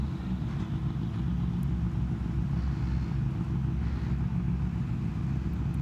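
Rallycross car at Strängnäs, Sweden, just back from a wastegate repair, running as a steady low engine rumble throughout, fairly loud and close, with no talk over it.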